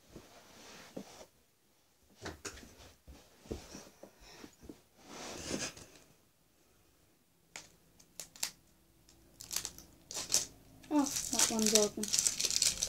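Scissors snip open crinkly candy wrappers in short, scattered bursts of crackling and rustling, quiet and close, interleaved with a person talking.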